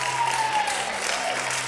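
A church congregation breaks into applause during a Sunday morning service, a brief dense burst of clapping with a faint steady tone underneath.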